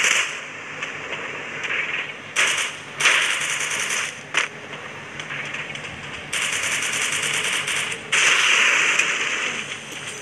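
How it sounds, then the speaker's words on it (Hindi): Bursts of rapid Free Fire video game gunfire crackle in loud, sharp stretches separated by brief pauses, with no talking. "फालतू में वेस्ट कर दी अपनी गोलियां।"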